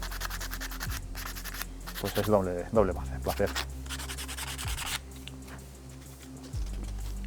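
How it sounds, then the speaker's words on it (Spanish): Sandpaper rubs against a roe deer skull bone in short scratchy strokes, a soft rasping that swells and fades, while a person talks over it. "Un cráneo de corzo se lija muy fácil y muy rápido porque tampoco tiene tantas imperfecciones el hueso."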